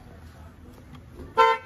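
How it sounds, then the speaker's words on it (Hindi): Toy horn sounding a single bright, loud honk near the end, following a stretch of quiet room background with faint household noise. "ये तो अमल का हॉर्न बज गया।"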